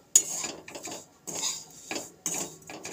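Semolina stirred and roasted in ghee in a pan, heard as bursts of scraping and clinking of a utensil against the pan in uneven strokes, close and moderately loud with short pauses between.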